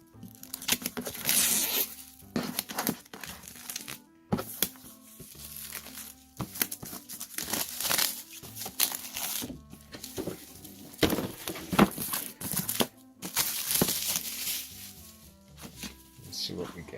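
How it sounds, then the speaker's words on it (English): Crinkly cellophane wrap torn and peeled off a Rick and Morty edition Monopoly board game box, in repeated bursts of sharp crackling separated by brief pauses, close and loud. "so let's open the cellophane"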